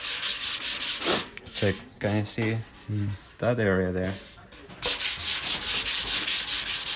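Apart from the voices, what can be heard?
hand sanding paint with 320 grit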